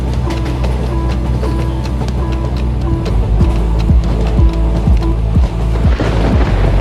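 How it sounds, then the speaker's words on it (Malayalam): Rain falls at night during a train journey through Kerala, a dense steady wash with the low rumble and rhythmic clatter of the moving train underneath, continuous and fairly loud throughout. "രാത്രി ഇരുട്ട് മൂടിയ അന്തരീക്ഷത്തിൽ മഴ താളം പിടിച്ചു തുടങ്ങി"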